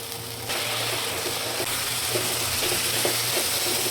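Spices frying in a pan for a coral fish curry, a steady close sizzle and hiss throughout with light stirring scrapes, no talking.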